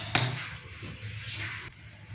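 A kadai set down on a stove with one sharp metallic clank at the start, followed by a faint hiss and low background hum.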